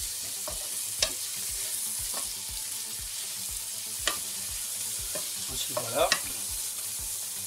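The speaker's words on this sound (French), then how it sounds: "Faire revenir un peu mon oignon." Onion sautés in a pan with a soft, steady sizzle and repeated light scraping strokes from stirring, while someone speaks briefly over it.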